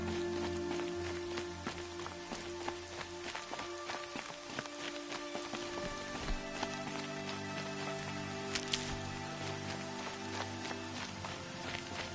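Steady rain in Horizon Zero Dawn, a constant dense hiss with scattered tapping drops and faint background game tones throughout, fairly quiet.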